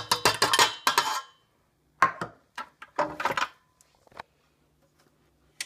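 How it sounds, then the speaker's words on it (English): Cake batter with a cup of Japanese knotweed puree stirred in a bowl, a burst of close scraping and clinking strokes followed by a few separate knocks and scrapes, then near quiet. "And to give it a good stir."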